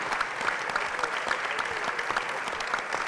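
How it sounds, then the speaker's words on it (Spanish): Crowd at a book fair clapping steadily in a dense, even burst of applause, moderately loud throughout. "yo les pido un aplauso a los compañeros que están encarando este proyecto"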